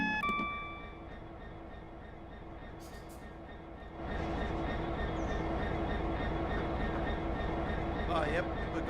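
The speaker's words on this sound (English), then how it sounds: "This is the older variant of the loco." An older variant of a locomotive from Train Sim World runs steadily, with a low rumble that swells louder partway through and holds as a continuous drone, with faint voices present.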